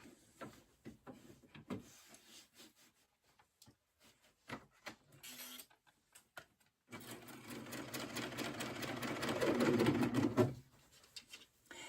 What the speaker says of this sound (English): I'm going to now sew this part together.